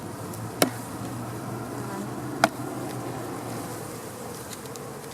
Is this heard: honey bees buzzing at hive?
yes